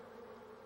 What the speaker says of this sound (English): the number of pulses of sound emitted in each buzz are a measure of the distance to the food source